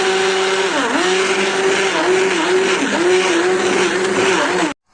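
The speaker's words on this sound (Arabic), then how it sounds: "دوك انا نروح نميكسي لاصوب تاعي ونعاود نولي لكم" An electric blender purees a red lentil soup with a loud, steady whirring roar that dips and recovers in pitch as the blade loads and frees itself, running continuously close by before cutting off abruptly.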